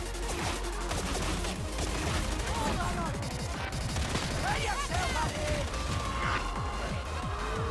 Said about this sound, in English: Why'd they make it so fun to shoot so freaking fast, dude?